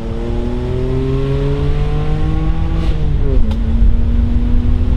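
A car engine revs loudly up close, its pitch climbing in a steady rising whine before dropping and settling at a lower, sustained drone near the end.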